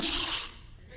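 A voice imitates a dog's short, breathy sneeze: a sharp hissing snort that quickly fades away.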